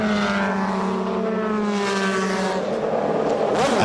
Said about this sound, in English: The 64 Chevrolet comes in for routine service.